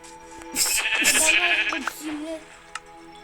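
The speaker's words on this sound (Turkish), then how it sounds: "koyun buldum" A sheep bleats loudly and nearby in a wavering, drawn-out cry, followed by a few quieter sounds and a brief click.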